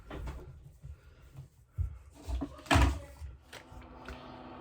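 Indoors, a door swings and closes with a few soft knocks and shuffles, ending in a louder thump, then quiet room tone.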